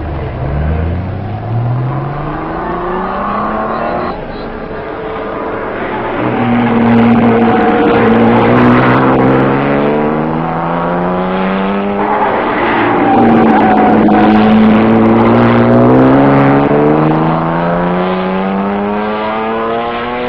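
Race cars at the 1955 Le Mans 24 Hours roar loudly through rising and falling gear-change sweeps, several engines overlapping as they accelerate past, with a steady rumble throughout.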